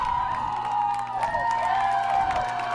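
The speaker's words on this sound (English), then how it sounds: "A grab that leads to some cheers from the crowd." Spectators cheer at a women's college ultimate frisbee semifinal, Portland against St. Olaf at the D-III championships, a steady crowd roar with whoops rising and falling over a sustained tonal hum.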